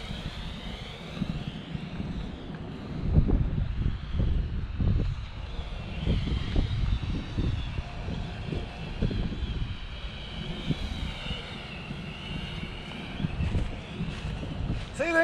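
Small drone flying outdoors on a windy day, its rotors producing a continuous whine beneath heavy gusting wind buffeting the microphone, steady and fairly close throughout.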